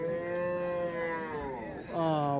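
An Ongole cow gives a long, loud, close moo at the Punganur cattle market, its voice bending lower near the end before a brief second rising bellow.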